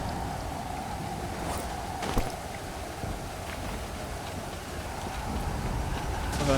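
Steady rainfall in the survival video game Stranded Deep, a soft continuous hiss of drops with faint wind and a few small knocks, fairly quiet throughout.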